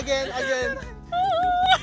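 A person imitates a crying dog, voicing a single high, wavering whimper that rises and falls for under a second after a brief stretch of other vocal sound.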